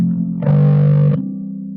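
A common chord progression played through distortion and chorus effects as a demonstration, heard as one loud, close, sustained chord that swells and cuts off cleanly, with no talking.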